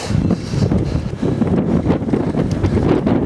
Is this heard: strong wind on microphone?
yes